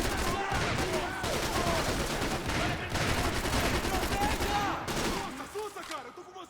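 Dense rapid gunfire and bursts of automatic weapons in Max Payne 3 during a prison escape, continuous and loud for several seconds, with someone shouting over it.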